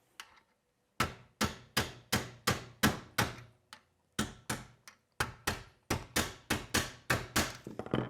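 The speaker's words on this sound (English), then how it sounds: "we are going back to using my 9/16 socket and the hammer" A hammer drives a 9/16 socket to press a spacer into a chassis during assembly: sharp, loud metallic strikes close by, coming in steady bursts of several blows with brief pauses between groups.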